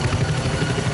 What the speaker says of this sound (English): Comes the RNS chopper for another taxi event.